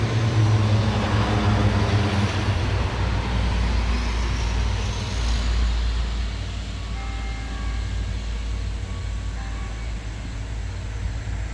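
Another truck goes by on a road, its heavy engine and tire rumble loud at first and then slowly fading as it moves away.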